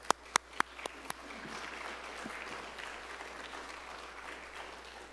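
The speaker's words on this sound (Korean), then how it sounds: "박수로 맞이하겠습니다." Applause from a Korean church congregation at a Sunday service, welcoming a pastor to the pulpit: a few sharp close claps first, then soft, fairly distant clapping that holds steady.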